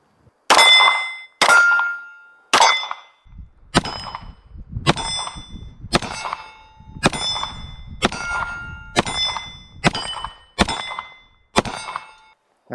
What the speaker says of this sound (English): We're going to shoot some steel here.